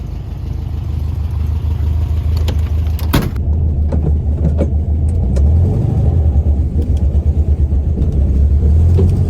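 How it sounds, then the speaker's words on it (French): A 1971 VW Beetle's air-cooled engine runs with a holed exhaust, giving a loud, steady low rumble throughout, with a brief sharp burst near the start and a slight rise in revs later on. "l'échappement, il y a un trou"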